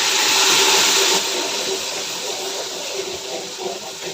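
Water laced with garlic hits browned onions in a pot, giving a loud sizzling hiss that eases after about a second into a steadier, softer steaming crackle with no talk.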